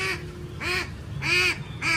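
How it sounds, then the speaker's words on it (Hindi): Small duck quacking up close in three short, nasal bursts with brief pauses between them, loud and clear against a faint low background hum. "छोटी बतख है भाई।"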